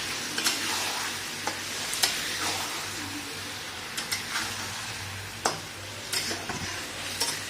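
A chicken curry with fried chicken and fried potatoes sizzles and fries steadily in a pan while being stirred, with frequent sharp clicks and scrapes from the utensil against the vessel.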